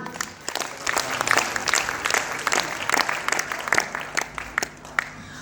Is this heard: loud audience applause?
yes